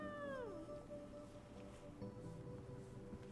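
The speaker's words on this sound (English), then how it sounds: "Do you hear this complaining kitten?" A kitten meows and complains up close, a couple of drawn-out, whiny cries with falling pitch, then a softer mew against a quiet indoor background.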